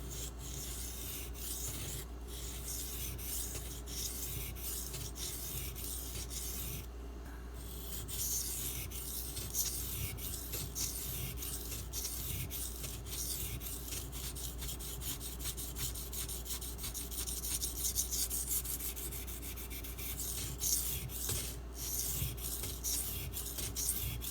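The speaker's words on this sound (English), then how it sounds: "I'm going to hit it from both sides because I want to grind the chip out evenly." A Spyderco Delica knife with an SG2 steel blade being ground on a sharpening stone, with steady repeated scraping strokes that are close and fairly quiet, and no voices.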